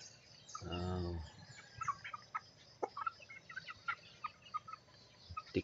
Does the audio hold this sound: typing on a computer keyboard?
no